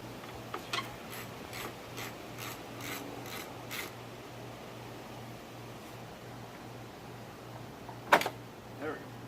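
Ratchet wrench loosening a 10 mm bolt on a car fender: a quick series of faint clicking ratchet strokes in the first few seconds, then quiet, with a sharp metallic clank near the end.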